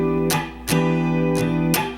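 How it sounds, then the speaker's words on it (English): Guitar strummed in a jazzy pattern of downstrokes broken by sharp muted chucks, with four percussive scratch hits across a couple of seconds over sustained ringing chords. "maybe we'll throw in some chucking, kind of sound like this, kind of jazz it up a little bit"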